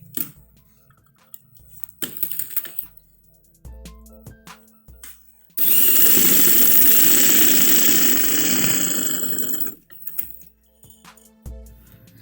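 A sewing machine stitches a decorative strip along the edge of a trouser bottom, a loud steady mechanical run of about four seconds between short, quieter bursts of stitching.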